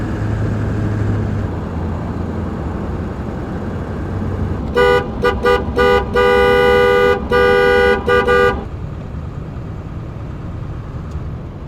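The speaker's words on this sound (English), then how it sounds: "Holiday weekend traffic has begun." Holiday weekend traffic on the Fourth of July: a car horn blares in a run of short and long honks over steady road noise, loud and close, with no talking.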